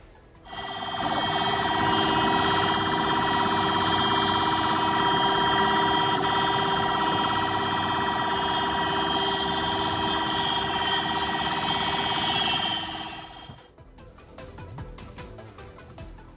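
Ambulance siren wailing continuously and loud in Kochi traffic, holding steady for about thirteen seconds before cutting off abruptly, leaving low street noise behind.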